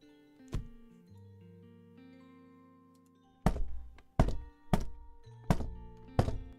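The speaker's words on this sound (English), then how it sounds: "Box shatter, light impact." Several light box-breaking impact sound effects for a game: one sharp thunk early, then four hollow wooden knocks in a quick, uneven series. Soft tonal music plays beneath them.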